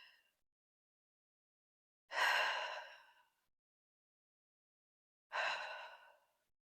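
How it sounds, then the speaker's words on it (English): Two long, forceful mouth exhalations during a reformer Pilates teaser hold, close and isolated, separated by silence. "exhaling through the mouth."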